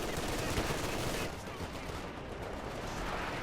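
Machine-gun fire from the Browning light machine gun and BAR in the Company of Heroes 2 video game, a dense, steady crackle of distant automatic fire in the battle din.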